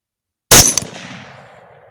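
A single loud rifle shot fired at a boar during a hunt with a Barnes TTSX bullet, a sharp close crack followed by a long rolling echo that fades away, with silence before it.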